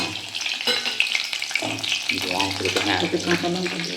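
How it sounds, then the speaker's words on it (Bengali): Garlic hisses and sizzles in hot mustard oil for a Kolkata-style pabda fish curry, a steady close crackle running beneath voices talking throughout. "রসুন রসুন দাও ভাজা ভাজা হবে"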